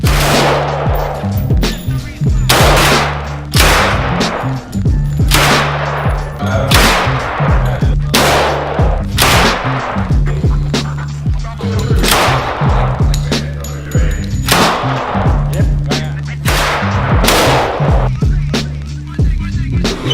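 A firearm fires at an indoor tactical shooting range: about fourteen loud, sharp shots in a steady, evenly spaced rhythm over a continuous low rumble, with no talk.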